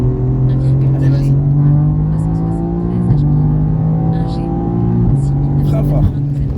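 Race car engine at Mireval track, loud and close, holding a steady harmonic drone that steps up through gear changes as it accelerates, with brief dips around shifts; a voice coaches over the continuous engine roar.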